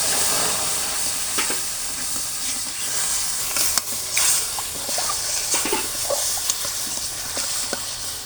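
Warm milk poured onto fried semolina in a hot pan for a milk paratha dough, hissing and steaming steadily with scattered light clicks and stirring knocks close by.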